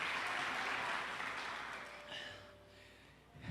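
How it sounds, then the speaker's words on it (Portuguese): A church congregation applauds during a Portuguese-language worship service, a dense wash of clapping that starts loud and fades over a few seconds, with faint voices underneath. "aplauda o nome de Jesus"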